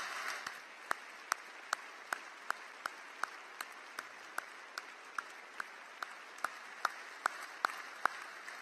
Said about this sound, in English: let's give them a round of applause for the great job they do